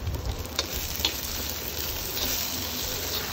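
Finely chopped tomatoes frying in a pan for a drumstick masala curry, a steady close sizzle with a few soft clinks of stirring.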